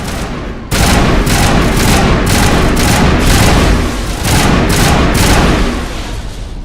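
Assault rifle gunfire in the video game Mass Effect, a loud, continuous volley of rapid shots that starts abruptly and keeps rattling for several seconds, with a short lull before it resumes and then fades slightly.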